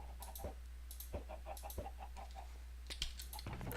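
Chickens cluck in the video game Solitary Craft 7, a string of short, close clucks over a steady low hum, with no speech.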